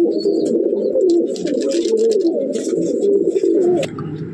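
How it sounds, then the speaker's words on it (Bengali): Male Giribaz and Madrasi pigeons coo together in a loft. The close, continuous layered cooing rolls on with overlapping low throaty calls, and a few faint chirps sit above it. "এখানে সব নর পায়রা, গিরিবাজও আছে, ম্যাড্রাসও আছে, সব মিলানো মেশানো আছে।"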